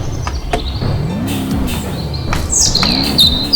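Birds chirp in the Rallycat forest rally video game, with a few bright tweets near the end over the steady drone of a rally car engine.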